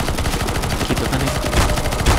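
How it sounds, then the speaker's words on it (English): Rapid bursts of automatic gunfire in the CS:GO zombie escape map ze_Desperate_Soul, loud and continuous. Dense overlapping shots run throughout. "Oh, keep shooting."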